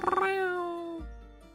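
A single cat gives one drawn-out, wavering meow, loud and close, that slides downward and fades with no talk over it.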